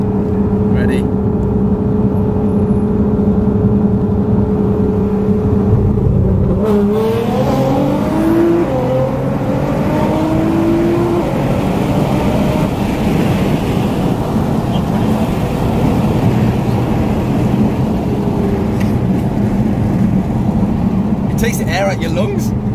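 A 900 BHP Nissan GT-R accelerating hard: a loud, continuous engine roar that climbs in pitch through a gear change around the middle, with heavy wind buffeting and voices talking over it inside the cabin.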